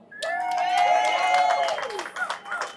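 A crowd at a Glasgow rally against digital ID cheers and applauds for speaker John Watt, a sustained whooping shout or whistle over scattered clapping that grows into quick, uneven claps.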